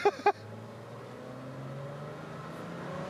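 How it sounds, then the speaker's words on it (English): Suzuki production car on a racetrack, its engine a low smooth drone that slowly builds in loudness as it pulls away, with two short sharp knocks right at the start. "today we're actually taking a production car out onto a racetrack"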